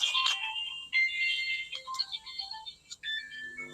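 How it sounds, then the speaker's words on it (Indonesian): An incoming-call telephone ringtone chirps in a bright electronic melody of short, rising and falling tones, fairly close and moderately loud, with no talk over it. "Sebentar Ibu, terima telepon."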